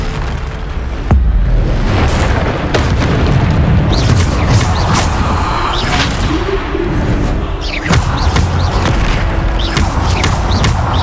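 Booming blasts from the Bombarda spell in Hogwarts Legacy go off in quick succession amid combat clatter and whooshing spell effects. The thumps are loud and dense, with no voices over them.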